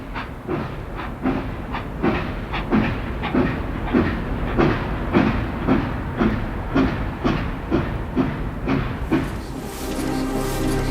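A steam train runs on a railway, its wheels clicking over rail joints in a steady rhythmic beat, loud and close, with a hiss of steam rising at the end.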